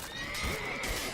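A brief, close horse whinny from The Witcher 3: Wild Hunt, a quavering high-pitched neigh with faint hoof clops underneath, lasting about a second.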